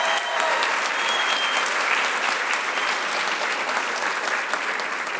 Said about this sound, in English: Can we have a round of applause for your Med Council?